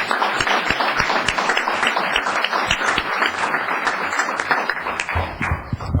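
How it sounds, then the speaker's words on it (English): An audience at a town council meeting applauds a public works crew during National Public Works Week. Steady, full clapping from a roomful of people lasts around six seconds without a break. "Applause, please, for Todd and his crew."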